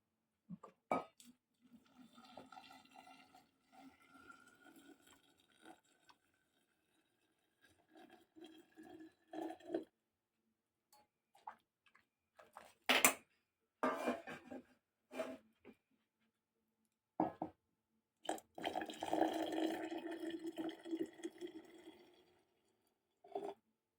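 Blackberry drink is ladled into sterilized glass jars in several separate pours with quiet pauses between them, each bringing close, soft splashing and trickling of liquid along with faint clinks of the ladle.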